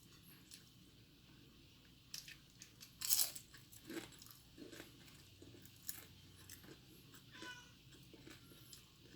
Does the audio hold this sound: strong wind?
no